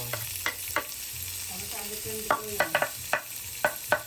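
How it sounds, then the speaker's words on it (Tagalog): Pancetta or pork belly sautéing in a pan with olive oil and salt, a soft crackling sizzle punctuated by a series of quick clinks and scrapes of a utensil, fairly close. "Igisa natin ang panseta o liempo."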